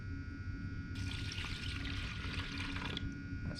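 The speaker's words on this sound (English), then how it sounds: "So I'm going to pour some glue in here." White glue pours into a container in a thick, continuous wet rush, heard up close and fairly quiet. A steady background hum runs under the pour, and no one speaks.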